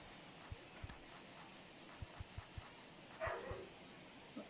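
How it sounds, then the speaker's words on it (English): A dog barks faintly in the distance, a handful of short, quiet yips scattered over a few seconds against a hushed room background. "Oh shit, that one's actually my dog."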